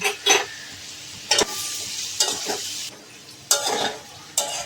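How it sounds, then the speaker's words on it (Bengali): Ghetkol stalks and jackfruit seeds fry in a pan with a steady sizzle, broken by several sharp scraping strokes of a spatula stirring at irregular intervals, close and fairly loud. "আরও কিছুক্ষণ আমি নাড়তে থাকবো"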